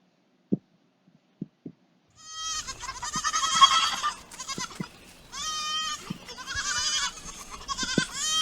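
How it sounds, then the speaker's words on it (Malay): A few soft taps, then a goat bleats loudly several times in wavering, nasal cries, close by. "Bunyi kambing"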